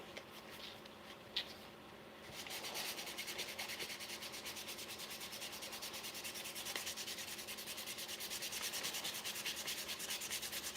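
Knife handles sanded by hand in a dusty workshop, a quiet, brief movement first, then steady, even rubbing strokes carrying on continuously and close up with no talking.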